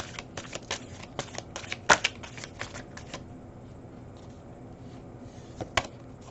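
Tarot cards being shuffled by hand, a run of quick crisp riffling flicks followed by quieter rustling, with a couple of sharper snaps standing out, close and alone with no talking.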